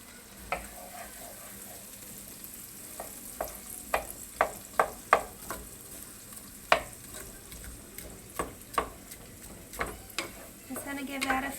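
Rice sautéing in a pan for fried yellow rice, a steady low sizzle broken by irregular sharp clicks and scrapes of a utensil against the pan, close and moderately loud.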